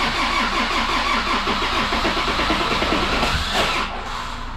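A 1984 Ford Escort engine cranks with a rapid rhythmic chugging from the starter, loud and close, then catches and settles into a lower running idle near the end.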